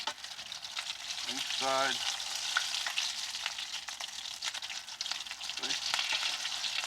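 Tacos sizzle and fry steadily in hot oil as they turn golden brown, a continuous crackling hiss throughout, with a person speaking briefly over it.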